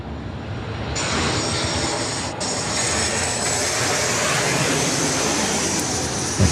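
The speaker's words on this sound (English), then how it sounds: "The Qantas service coming in there from Brisbane, the Boeing 737-800." A Qantas Boeing 737-800 jet arriving at Sydney Airport from Brisbane, giving a loud, sustained engine roar that swells slightly and stays steady, with a high whine layered over it.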